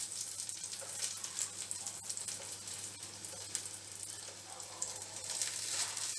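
Eggplant pieces fry slowly in a pan over low heat while browning. The sizzle is a continuous, fairly quiet crackle and hiss with scattered small pops throughout.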